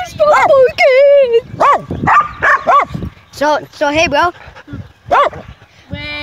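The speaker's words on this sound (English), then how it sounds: "Hey, would you stop barking?" A small dog yips and barks in short bursts, close and loud, while a person talks briefly in between.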